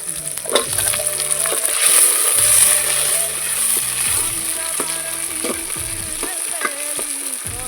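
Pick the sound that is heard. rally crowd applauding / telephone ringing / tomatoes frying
tomatoes frying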